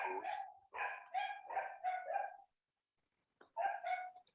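A dog barks in quick bursts, five sharp yaps in a row, then a short silence and two more, fairly faint and distant, heard during an online physics talk.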